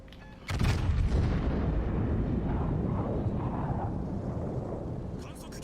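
Heavy naval gun salvo from the battleship IJN Yamato in World of Warships Legends, a sudden loud boom followed by a long rumbling decay over several seconds.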